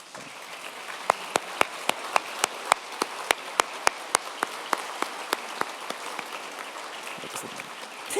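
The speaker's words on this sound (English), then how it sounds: "I would like my classmates to stand up and give a round of applause to them" Graduates at a 2023 high school graduation stand to applaud their staff, sparse sharp claps in a steady rhythm over a soft crowd murmur, the clapping growing more scattered over time.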